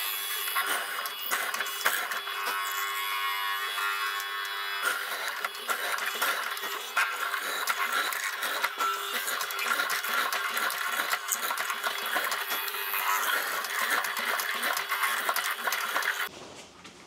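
A mortising machine cuts mortises into wooden barn door rails, giving a steady, loud high-pitched whirring and grinding drone that runs unbroken for about sixteen seconds before cutting off abruptly.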